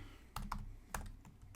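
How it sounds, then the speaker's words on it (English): Keystrokes on a butterfly-switch laptop keyboard, several quick clicks in two short bursts, close and fairly quiet with no talking. "I'm just trying to get used to this new keyboard. It's the butterfly keys"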